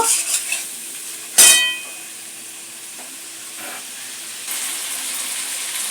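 Chicken stomach being stir-fried with spices and chili powder in a pan: a sharp scrape of a spatula against the pan stands out early, then a steady soft sizzle runs underneath, brightening toward the end.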